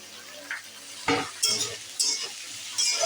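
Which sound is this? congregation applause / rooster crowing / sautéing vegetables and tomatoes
sautéing vegetables and tomatoes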